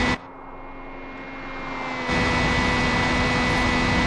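A steady, high-revving car engine roars throughout at about 200 km/h in the driving game BeamNG.drive, its pitch rising slightly before jumping louder.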